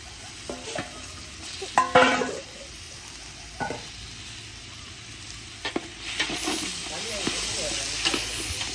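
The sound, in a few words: onions, tomatoes and green chillies sautéing in a pan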